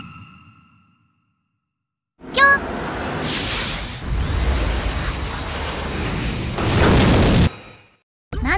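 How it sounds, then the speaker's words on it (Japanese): A bomb explodes in an animated scene, a sudden loud burst after near silence that holds as a dense roaring blast for several seconds, then cuts off abruptly. "なんで爆発したのだ。"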